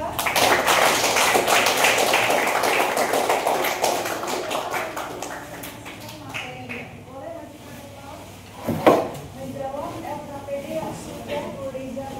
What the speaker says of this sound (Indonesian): Kita kasih aplaus ya untuk kelompok 2